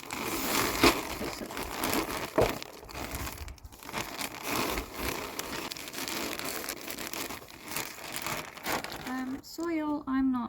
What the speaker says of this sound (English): So, I'm going to tip soil in, I think.